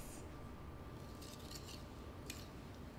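Cake batter with eggs and vanilla being mixed in a bowl for a rainbow vanilla cake, giving a steady close scraping and clinking of a utensil against the bowl, with brief brighter clinks partway through.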